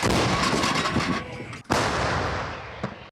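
Loud, booming artillery blasts, one heavy report around the middle with a long rumbling tail and another sharp shot near the end, outdoors.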